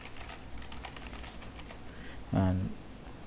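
Typing on a computer keyboard while client and project details are entered into a human resource management system, a steady patter of soft keystrokes with a louder burst near the end and no speech.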